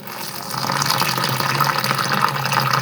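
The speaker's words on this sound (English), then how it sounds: "So our next step, we are going to add water." A steady rushing pour of water into flour for pumpkin chapati dough, continuous and fairly loud, close by with no voices.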